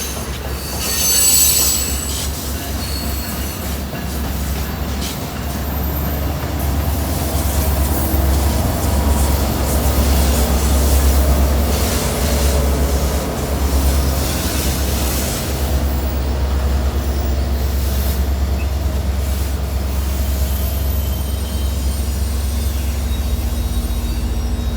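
A Caltrain train with a trailing F40PH locomotive rolls through Oakland's Jack London Square, a long steady rumble with squealing wheels and faint clickety-clack, heard close and continuous.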